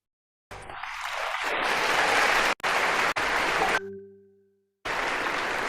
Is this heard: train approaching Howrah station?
no